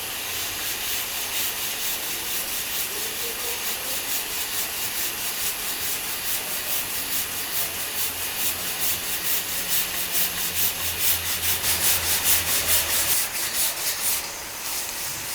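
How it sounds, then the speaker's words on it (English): Sandpaper of 80 grit is rubbed by hand over plastic body filler on a car panel, a steady close rasping scrape in continuous strokes that swells louder toward the end, with no talking. "Now we're going to start going down in grades and sandpaper. This is an 80"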